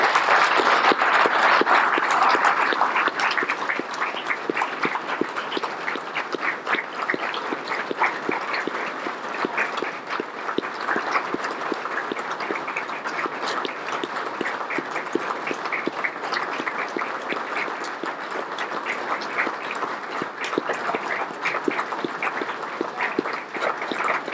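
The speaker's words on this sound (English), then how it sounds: "Let's give them a round of applause." A large audience applauds to honour veterans at a remembrance gathering, sustained dense clapping that holds steady and loud for the whole stretch with no talk over it.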